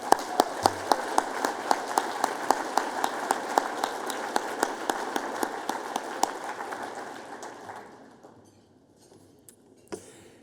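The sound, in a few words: audience applause for Sister Janet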